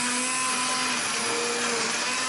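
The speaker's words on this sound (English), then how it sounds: "Now I'm going to blitz this. You can do it in a blender or a blitzer." An immersion blender whirs steadily as it blends mushroom soup, a loud, continuous motor drone with a faint tonal hum that runs unbroken with no voices over it.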